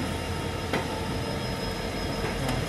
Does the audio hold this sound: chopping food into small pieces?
no